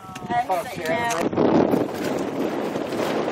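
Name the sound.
wind blowing on a Gulf Coast fishing boat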